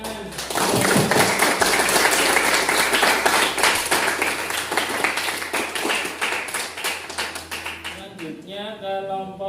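A classroom group bursts into applause, a dense run of hand claps lasting about eight seconds before it fades as a voice starts talking.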